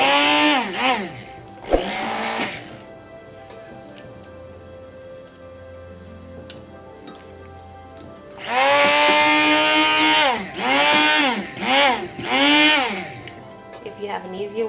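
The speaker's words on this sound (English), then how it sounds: "I'm going to use my little hand blender here and just try to mix up this ginger a little bit" A hand blender mixing ginger whirs in loud bursts that rise and fall in pitch, pausing between runs, with quieter stretches of background noise between.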